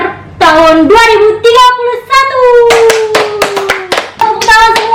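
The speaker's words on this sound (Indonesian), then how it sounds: "Tepuk tangan semua." Audience clapping in a studio, crisp rhythmic claps under loud sustained music with a prominent melodic line, the hands sitting just below the music throughout.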